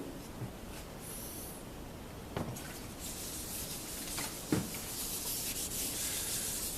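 Finish is rubbed by hand into a flame-top Telecaster guitar body sanded to 400 grit for a green burst: a steady, close, dry rubbing hiss with a couple of sharper swipes and no talk.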